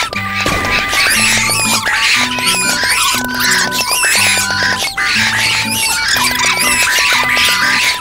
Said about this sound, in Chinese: 有没有发现他像小孩一样在哭？